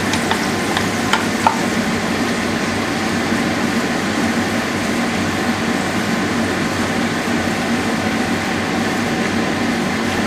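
Demi-glace sauce made with veal and beef stock boils and thickens in a pan, giving a steady, dense bubbling sizzle with occasional small pops, continuous and close throughout.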